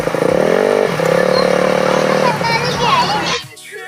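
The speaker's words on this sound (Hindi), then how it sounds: "बाइक खड़ी कर रहे हो।" A motorcycle engine hums steadily up close while it is being parked, then dies away and cuts out near the end, with people talking over it.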